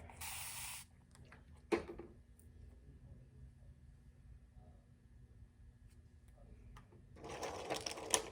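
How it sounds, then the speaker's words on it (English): Two short bursts of aerosol hairspray hiss during a piggyback perm wrap, one at the start and another near the end, separated by quiet handling noises and a brief tap. "Spray."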